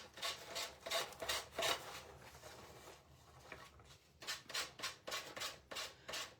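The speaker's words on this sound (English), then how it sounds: "I'm just going to use my little 120 grit sandpaper block" A small 120 grit sandpaper block rubs in steady back-and-forth strokes across an oval wooden sign. There are two groups of rhythmic rasping passes with a short pause between them, close and soft.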